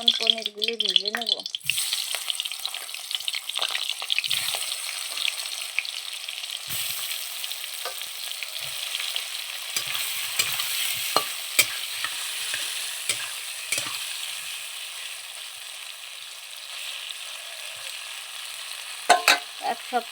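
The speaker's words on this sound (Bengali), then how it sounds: "কড়াইতে তেল দেওয়া হয়ে গেছে, এখন পনিরগুলি ভেজে নেব।" Paneer pieces fry in hot oil in a kadai, a steady close sizzle with occasional stirring scrapes and clinks running throughout.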